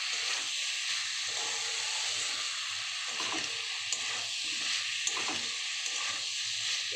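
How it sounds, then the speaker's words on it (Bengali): Potato and cauliflower curry sizzles in a pan after a splash of water, a steady hiss and crackle with soft, repeated stirring scrapes, close and continuous with no one speaking. "কষা হচ্ছে, খানিক জল দিয়ে কষছি।"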